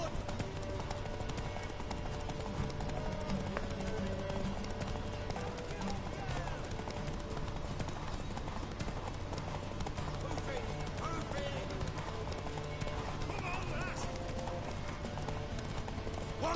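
Horse hooves clip-clop in The Witcher 3, a steady muffled trot under game music and ambience, with voices talking over it.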